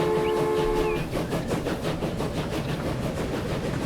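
Train rumbling along steadily in Transport Fever 2, a continuous loud rolling clatter with a brief horn-like tone at the start, heard from onboard with no talking.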